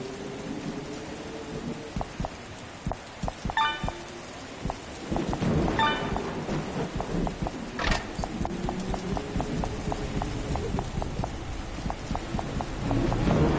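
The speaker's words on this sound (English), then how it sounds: "This be no normal storm." Thunderstorm in the Five Nights at Freddy's Help Wanted game: steady rain and rumbling thunder with a sharp crack near the middle, mixed with rhythmic clip-clop footsteps and a few short tonal game effects, continuous throughout.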